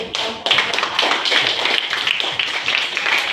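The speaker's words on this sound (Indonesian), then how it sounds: "Oke, kita berikan aplaus dulu." A group of people in a classroom or workshop session claps together, dense continuous applause lasting the whole stretch, steady and fairly loud with no talking over it.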